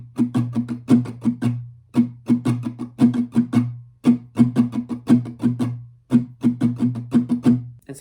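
Acoustic guitar strumming pattern from a song, played alone: quick rhythmic strums in repeating bursts with short muted gaps between phrases, close and clear.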